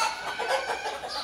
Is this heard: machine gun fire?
no